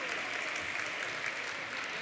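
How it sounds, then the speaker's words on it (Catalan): A crowd at an academic graduation ceremony claps steadily, a dense, even patter of applause with no pauses, fairly close and sustained across the whole moment. "A veure aquests aplaudiments, a veure."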